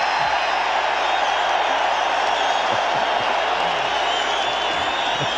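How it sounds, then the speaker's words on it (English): A huge stadium crowd roars and cheers at a 1985 Monday Night Football game between the Packers and Bears, a dense sustained wall of noise with scattered whoops as William Perry takes the field. "Listen to the crowd."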